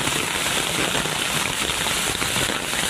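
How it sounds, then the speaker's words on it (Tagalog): Heavy typhoon rain pours down in a dense, steady roar that fills the whole stretch without a break, loud and close, with no voices over it. "Grabe yung ulan."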